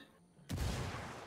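A frag grenade goes off in Black Ops with a sudden, loud, close blast, followed by a deep rumbling boom that fades over about a second after a brief quiet lead-in.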